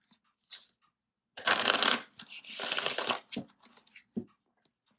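Tarot cards being shuffled in two close, loud bursts of riffling, followed by a few softer taps and shuffles of the deck, with no voices.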